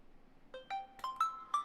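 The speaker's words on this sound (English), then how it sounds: "That's like the standard OnePlus ringtone." A standard OnePlus phone ringtone plays softly on its own, a short run of five bright chime notes stepping upward over under two seconds.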